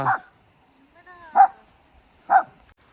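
A dog barks three times at roughly one-second intervals, fairly close, with a brief whine between the first and second bark, in Dirang Valley, Arunachal Pradesh.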